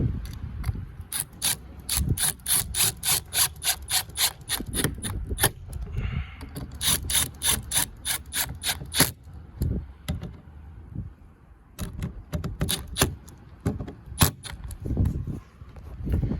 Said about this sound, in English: Make sure your lock works.